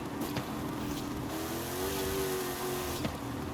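Modified Volkswagen engine in the racing game Forza Horizon 5 revs continuously, a steady mid-pitched drone with a slight rising whine midway, moderately loud and unbroken, with no voices over it.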